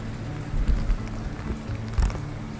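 Steady freezing rain falling outdoors on a cold, grim day, a continuous patter and hiss of drops on surfaces with a few heavier splashes, fairly close and moderately loud, with no talking.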